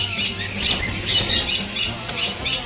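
A sun conure parrot in an aviary gives six loud, harsh squawks at a regular pace, close and dominant, with no talking over them.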